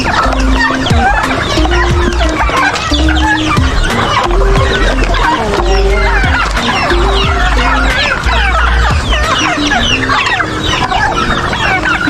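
A noisy flock of sixteen large turkeys calls continuously, with gobbling and clucking overlapping at close range and busy chatter filling the background throughout.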